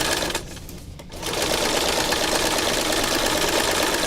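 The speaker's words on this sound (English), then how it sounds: "this butterfly, I'm going to stitch right through it" A sewing machine stitches straight through a fabric butterfly appliqué, running in a loud, steady whir after a brief pause near the start, close up and with no talking.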